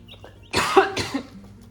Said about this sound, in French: Attendez, je tousse.